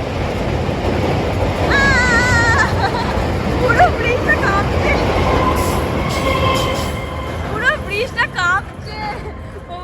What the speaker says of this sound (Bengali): যা জোরে গেল ট্রেনটা আর পুরো এই ব্রিজটা কাঁপছে লোহার ব্রিজ